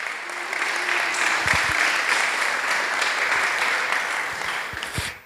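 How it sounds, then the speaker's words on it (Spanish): A church congregation claps during a sermon. The applause is sustained and fairly loud, with a few sharp low thumps mixed in, and it starts to fade at the very end. "Dele el aplauso al Señor."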